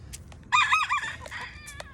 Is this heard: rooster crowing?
yes